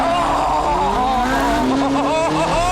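A Ferrari 458 Spider's engine revs and winds through gears with rising, wavering tones and some tyre squeal as it drives hard along an Italian mountain road, loud and close, with someone talking over it.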